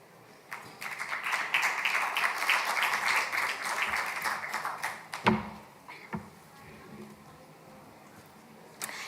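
Applause from a conference audience rises quickly and holds for about four seconds as a dense wash of clapping, then thins into a few scattered claps and a knock before fading to room quiet.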